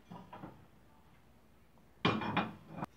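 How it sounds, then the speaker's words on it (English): Metal cooking pan picked up and handled in a home kitchen while making kuzhi paniyaram, a few soft knocks, then a louder clatter and clink near the end. "Now let's take the pan"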